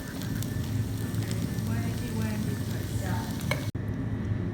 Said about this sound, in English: Secondly, we're going to fry the mushroom